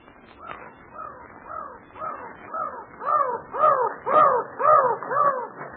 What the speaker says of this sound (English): Them ain't seagulls, miss. Them's mountain crows.